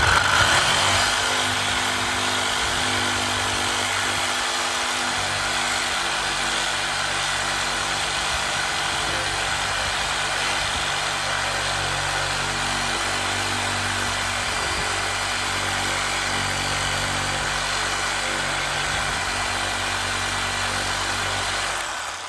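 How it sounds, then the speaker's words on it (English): A Sawzall reciprocating saw cuts on a 1957 Chevy, a loud, sustained mechanical buzz with a steady motor drone and rapid chattering strokes that runs almost unbroken from start to finish. "Apparently I need a new Sawzall blade."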